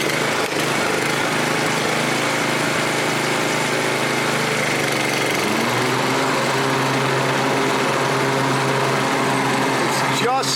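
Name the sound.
Craftsman 28-inch walk-behind mower engine running, whistling and rattling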